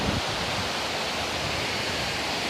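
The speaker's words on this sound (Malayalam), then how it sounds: "ഒരു നല്ല വെള്ളച്ചാട്ടം തന്നെയാണ്." Meenvallam waterfall in Palakkad pours in a steady, dense broadband roar, loud and close, unbroken for the whole stretch with no voices.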